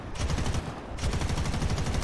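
Rapid aircraft strafing gunfire from a Firefly FR Mk V fighter in War Thunder naval battle, a dense continuous burst of rattling shots filling the whole moment, loud and close.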